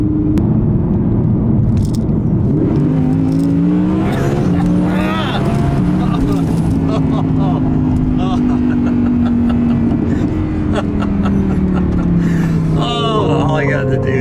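An Audi R8 fitted with a twin-turbo kit accelerates hard, its engine note rising and sweeping upward in loud, close pulls, while someone talks excitedly over it.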